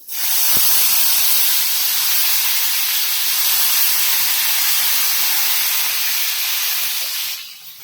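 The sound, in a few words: curry leaves and coriander sputtering in hot oil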